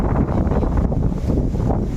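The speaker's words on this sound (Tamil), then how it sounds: "ஒரு காற்று தெரியுதா?" Wind blows through a home garden in a steady, dense rush that buffets the microphone, close and continuous for a couple of seconds with no talking.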